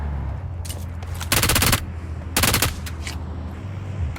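Gunfire in the video game PUBG: two dense automatic bursts and a few single shots, loud and close, with no talking.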